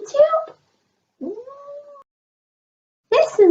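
A new kitten meows twice in short, high, wavering cries with a brief drawn-out call between them, close and clear in a quiet room.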